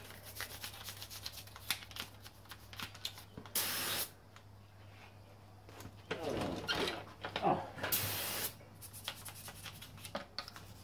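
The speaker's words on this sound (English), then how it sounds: "Give it a good hose." A garden hose sprays water onto a Mitsubishi Sigma engine part in two short, hissing bursts, separated by quieter handling and scraping noises with some faint background sound.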